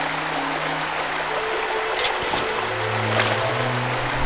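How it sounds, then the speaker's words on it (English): Steady flowing water in The Legend of Zelda: Skyward Sword HD, a continuous soft rush with low game tones humming underneath and no voices. "Okay, here is this water."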